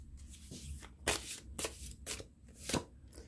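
Oracle cards shuffled by hand, a close, quiet flurry of several sharp riffling bursts with brief pauses between them and no speech.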